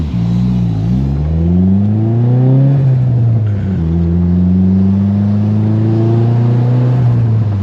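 A manual five-speed car engine revs hard and loud, its pitch climbing and dropping with gear changes including an over-rev on a missed shift into third, steady and close throughout at an outdoor cars-and-coffee meet.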